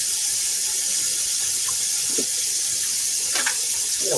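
A kitchen tap runs steadily while an onion cutting board is washed under it, a loud continuous hiss of water with a few faint clatters.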